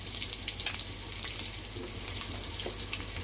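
Eggs frying in a little oil with turmeric and salt for a tamarind-leaf egg curry, a steady close sizzle with a faint watery hiss and a few soft clicks and stirs, no voices.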